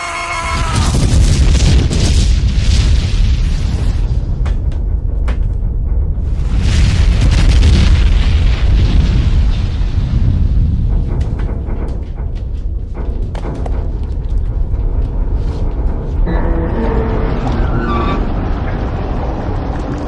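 Torpedo explosions in an action movie: a heavy, rumbling series of booms with dense low-end roar that swells and fades across twenty seconds, with scattered crackles and metallic debris layered over it.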